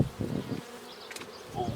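Honey bees buzz around an open hive, a close, wavering drone with swells as individual bees pass near, heard alone.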